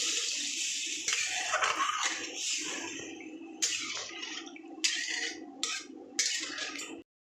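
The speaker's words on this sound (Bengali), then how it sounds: "আমার ডালটা আর ভাগে হয়ে গেছে জল দিয়ে দেবো" Water poured into a pot of cooking red lentils for a Bengali masoor dal dish, a steady splashing pour with sizzling bubbling and a few sharper splashes, close and fairly loud with no talk.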